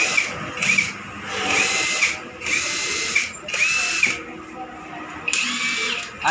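Tiyumon impact wrench running in several short bursts, each a loud, close whirring hammer rattle separated by brief pauses, with a voice faintly underneath.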